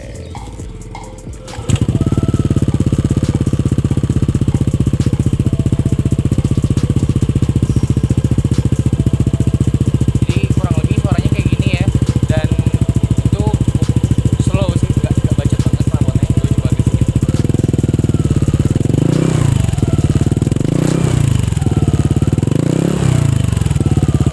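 A motor scooter with an aftermarket exhaust starts up and idles with a steady, deep exhaust burble, then gets several short revs near the end. Loud and close.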